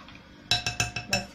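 A utensil stirring chicken marinating in spices and milk in a bowl, making five quick, bright clinks against the bowl in an uneven rhythm, close and clear with no voice.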